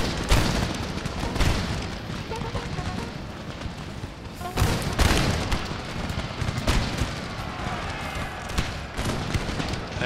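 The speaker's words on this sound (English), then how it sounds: "My line infantry will fire over the heads." Line infantry musket volleys in Empire: Total War with Darthmod, several loud crackling bursts and booms on a battlefield, with a steady roar of gunfire and someone talking over it at times.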